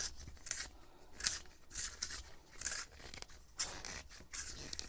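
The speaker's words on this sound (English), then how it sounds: "I need to sharpen this. So I have my pencil sharpener nearby." A handheld pencil sharpener grinds a colored pencil in a series of short, rhythmic scraping bursts, close and fairly quiet, with no talking.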